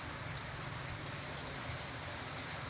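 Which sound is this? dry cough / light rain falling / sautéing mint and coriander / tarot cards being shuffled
light rain falling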